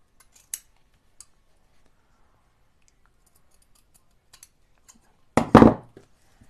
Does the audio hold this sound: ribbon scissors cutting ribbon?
yes